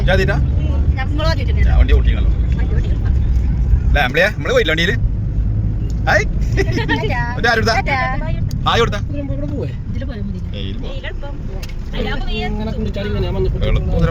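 A car drives along a small, bumpy road with a low, steady engine rumble, mostly beneath people talking throughout.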